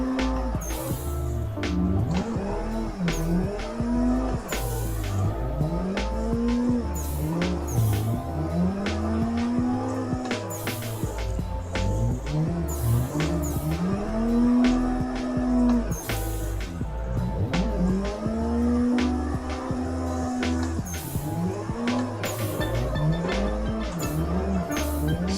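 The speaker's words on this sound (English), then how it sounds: "The car seems underpowered." Drifting car in Assetto Corsa on a Drift Matsuri track, underpowered, engine revving up and down in repeated rising pulls with tire squeal, loud and continuous throughout.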